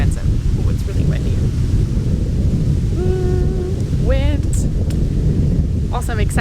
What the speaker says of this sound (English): Oh, it's really windy.